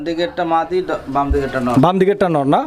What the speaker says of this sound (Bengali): আপনারা দেখতে পাচ্ছেন এটা ইয়েলো কালারের ক্যাপাচিনো কবুতরের একটা জোড়া